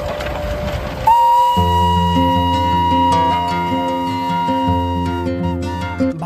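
The Darjeeling toy train on the Batasia Loop sounds a long, loud whistle, with sustained tones that shift in pitch over the rumble of the moving train.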